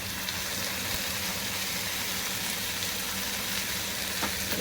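Onion and chopped tomato fry in oil in a pan for an egg curry gravy, a low, even sizzle with occasional faint ticks that continues unbroken without anyone talking.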